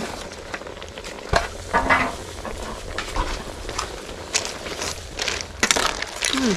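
Mixed garden vegetables dropped into a pot of snail curry and stirred, with a steady bubbling sizzle, rustling leaves and repeated clanks of a ladle against the pot, close up.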